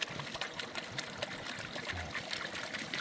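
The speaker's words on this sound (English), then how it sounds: "my purpose here is to shut off this water" Water trickling steadily from a garden tap, a continuous moderate splashing and dribbling that runs unbroken through the whole stretch, with no voices.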